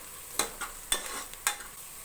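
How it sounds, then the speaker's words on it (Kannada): Onion tempering fries in a pan with a soft, steady sizzle, broken by three distinct scraping strokes of a spoon stirring it, quiet and close with no talking. "ಚೆನ್ನಾಗಿ ಫ್ರೈ ಮಾಡ್ಕೋತಾ ಇದ್ದೀನಿ ಒಗ್ಗರಣೆನ ಚೆನ್ನಾಗಿ ಫ್ರೈ ಮಾಡ್ಕೋಬೇಕು, ಕೆಂಪು ಬಣ್ಣ ಬರೋವರೆಗೂ."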